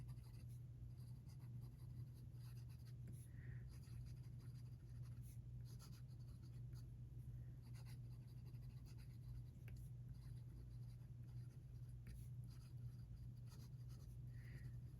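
A Sailor King of Pen fountain pen nib glides across paper in cursive, a faint, steady soft scratching that continues throughout over a low constant background hum.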